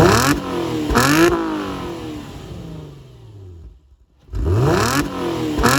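An Audi A4 3.2 V6 Quattro convertible with an S Line spec revs hard through the gears on a country lane, with loud rising engine sweeps, a near-silent lull between shifts, and another strong acceleration at the end.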